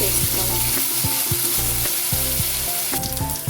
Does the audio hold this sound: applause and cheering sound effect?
no